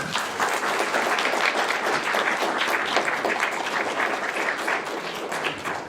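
Steady, dense applause from an evening audience at a historical society's annual members meeting in St. Augustine, Florida, sustained at an even loudness for the whole stretch without any talking.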